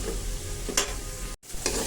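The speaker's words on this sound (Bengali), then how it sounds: "এবার চিংড়ি মাছের সাথে পেঁয়াজটাও কিন্তু একটু ভেজে নেব" Prawns and onion fry in oil in a village kitchen, a steady close sizzle broken by scraping spatula strokes as they are stirred, with a brief gap.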